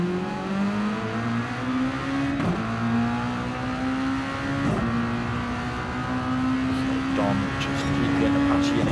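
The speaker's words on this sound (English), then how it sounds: "So just watch his acceleration through there." A race car in a sim racing game accelerates around the Interlagos circuit, its engine climbing steadily through the gears with brief dips at shifts, a continuous loud whine throughout.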